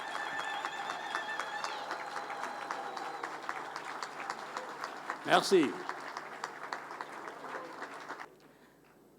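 Audience applause for a president at a formal inauguration ceremony in a French-language news broadcast, a steady faint clatter of clapping under a voice, briefly louder mid-way, then stopping near the end.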